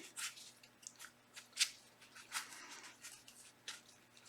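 A deck of board game cards for Colossus is shuffled in short, quiet riffling and flicking bursts, several in an irregular rhythm, close and soft.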